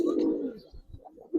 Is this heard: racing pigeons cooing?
yes